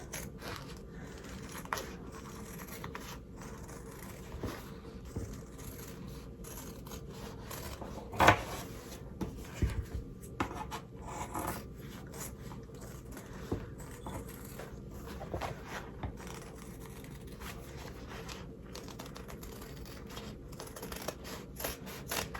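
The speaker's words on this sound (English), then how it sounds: "That's all you need to cut. So get your scissors." Scissors trimming fabric for a zipper bag, with quiet, sparse snips and rubbing of cloth over a low steady background, one sharper cut standing out midway, no talking.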